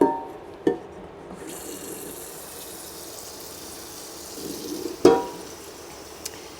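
Tap water runs steadily into a cooking pot at a kitchen sink before home tomato canning, with a couple of sharp clinks as the pot shifts, close and moderately loud.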